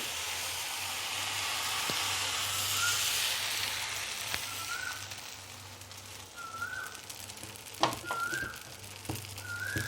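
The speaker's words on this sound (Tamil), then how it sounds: "இந்த மாதிரி ஒரு ஆப்பம் மாவு எடுத்து ஊற்றுங்க ஒரு நிமிஷம் அப்படியே விட்டுருங்க" Appam batter poured into a hot pan sizzles with a steady crackling hiss throughout, while birds whistle and chirp in the background and a low hum sits underneath.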